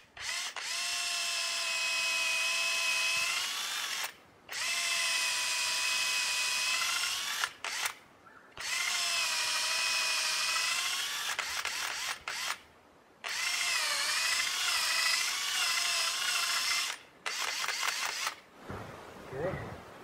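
A power drill bores a hole into a maple tree for sap tapping, running in four long loud whining bursts separated by short pauses, with brief rattling between runs.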